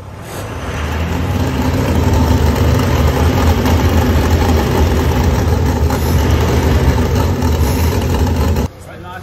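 A Toyota Land Cruiser 300 series fitted with a 3.5-inch stainless steel DPF-back exhaust rumbles loud and close. The engine holds a deep, steady roar for several seconds before dropping off abruptly at the end.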